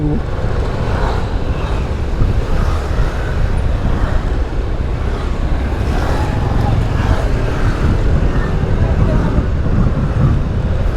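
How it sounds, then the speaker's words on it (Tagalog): Steady, loud roadway rumble from slow, congested traffic on a rural road, a dense continuous wash of engine and tyre noise with faint voices in the background. "haba ng traffic"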